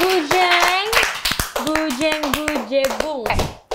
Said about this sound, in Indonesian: tepuk tangan dulu buat seorang Bujeng